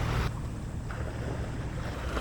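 Ocean surf washes steadily against the shore of Shikanoshima Island, heard close up as a broad rushing wash with wind noise blowing across the microphone.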